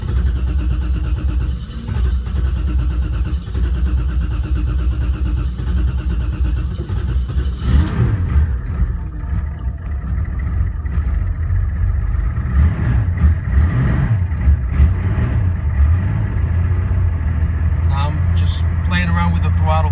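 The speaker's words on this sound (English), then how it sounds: "So now we got fuel. It should start soon. I'm playing around with the throttle." A car engine cranks and catches partway through, then runs rough with repeated throttle blips and revs rising and falling, loud and close, with a voice heard at times over it.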